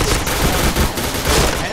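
Shooting video game gunfire hammers out in a dense, loud, continuous burst of rapid shots, close and unbroken, with no speech over it.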